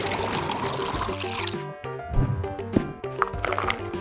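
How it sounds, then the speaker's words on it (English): Water poured into a bucket for mopping with Karndean floor cleaner, a steady rushing pour that breaks into a few splashes and knocks toward the end. "Find a bucket, add some water."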